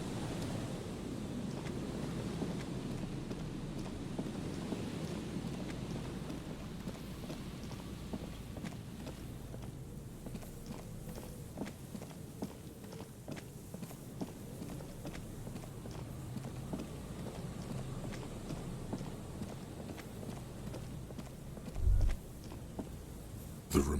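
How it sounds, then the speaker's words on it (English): Wind gusts moan steadily through a dilapidated room with grimy, rattling windows in the video game Disco Elysium, a continuous low rush with faint ticks of dripping water and a couple of brief knocks near the end. "The remaining windows rattle from a strong gust of wind. They're covered in a thick layer of grime. They must have been like this for 40 years. Dripping water falls from a high place."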